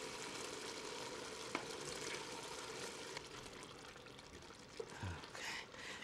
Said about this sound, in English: So let's add the milk and the tomato paste.